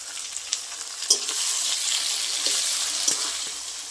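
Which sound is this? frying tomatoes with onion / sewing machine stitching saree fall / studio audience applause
frying tomatoes with onion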